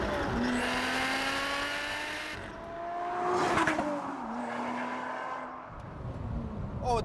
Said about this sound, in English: Oh, it does run out of revs, as James warned.